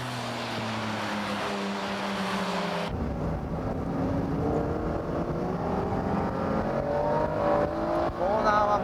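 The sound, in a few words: Porsche, Ferrari 355 and Honda NSX racing at Tsukuba Circuit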